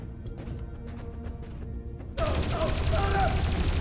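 Gunfire in the video game Dreamfall Chapters, arriving abruptly as a dense, loud burst of shots and crashing impacts after a quieter stretch of ambient game sound.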